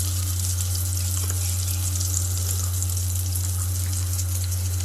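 Butter sizzles steadily in a pan on a Westinghouse induction cooktop, a constant close crackle over a low electrical hum, with no speech.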